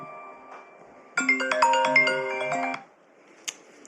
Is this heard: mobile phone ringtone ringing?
yes